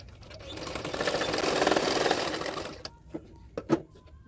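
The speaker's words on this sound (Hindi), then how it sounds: "किनारे किनारे पे एक सिलाई डाल देना है" A sewing machine runs a single stitch along the edges of a double katori blouse, whirring steadily and building before stopping abruptly, followed by a few soft clicks and handling taps.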